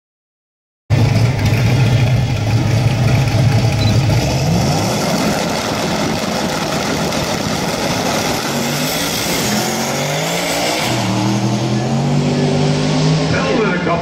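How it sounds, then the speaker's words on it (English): A 1968 Pontiac Firebird drag car with a 486 cubic inch engine roars loudly and steadily on a racing run, its pitch climbing through gear changes, with crowd and track noise mixed in throughout. "you can see Rodney Butler over there in the summit lane, 68 Firebird"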